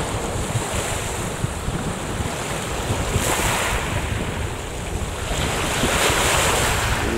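Gale-force wind buffets the microphone while sea surf washes and rumbles on the shore, a loud, constant roar with surging gusts.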